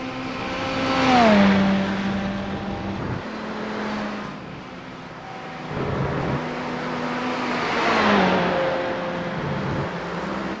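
Race cars in the iRacing video game lap Spa, engines screaming and shifting as they sweep past. The cars come loud and close twice, with quieter engine drone in between and no voices.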